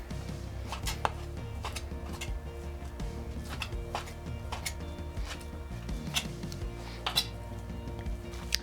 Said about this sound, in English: And that's all the pork diced up.